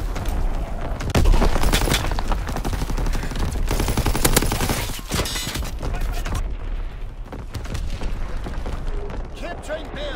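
Artillery and gunfire in a World War One battle game, heavy bursts of machine-gun fire and booming shells in dense, overlapping volleys, loud and close at first, then thinning out, with radio-style voice callouts over the fighting.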